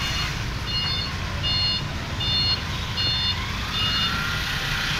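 Busy street traffic outside a fried chicken stall in the Philippines, a steady low rumble of engines with a truck's repeating reversing beeps sounding in regular bursts over it, fairly near and continuous, with no one talking.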